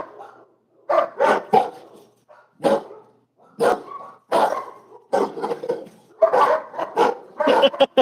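A dog that dislikes strangers barks repeatedly at close range, sharp loud barks in irregular bursts separated by short pauses, growing more frequent toward the end.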